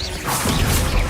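Bombarda spell blast in the video game Hogwarts Legacy, a short crashing burst that swells after a brief lead-in and stays loud and close for about a second.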